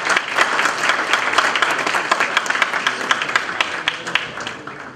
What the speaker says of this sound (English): I ask that we give a big round of applause to Sheriff Tom Dart